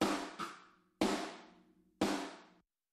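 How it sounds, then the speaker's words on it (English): A pop punk snare heard through a room microphone: three roomy, washy hits about a second apart, each with a long airy decay, plus a quick softer stroke after the first. "And then that snare room sounds like this."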